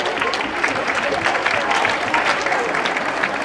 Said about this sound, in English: Let's have a very, very huge round of applause for him.